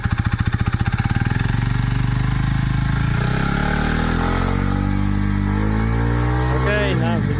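A 125cc motorcycle engine on a high Alpine crossing revs up from a fast idle, rising steadily in pitch and loudness, close and dominant, with a brief burst of talk near the end.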